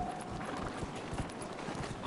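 A horse mount in the video game Dragon Age: Inquisition trots along, its hooves producing a quick, steady clip-clop rhythm at moderate volume, with no talk over it.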